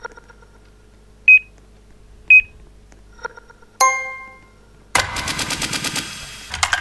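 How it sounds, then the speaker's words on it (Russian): Bursts of automatic rifle fire in a video game, a few short separate shots and beeps followed by a sustained rapid volley, loud and close with no talk. "Кто-то стреляет из автомата."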